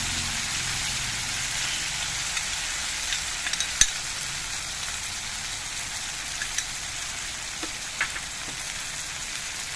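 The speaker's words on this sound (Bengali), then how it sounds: "এবার আমি দিয়ে দিচ্ছি কাজু বাদাম বাটা।" Cashew paste going into a spice masala frying for doi katla fish curry: a constant loud sizzling hiss with a few soft knocks and clicks scattered through it, close by.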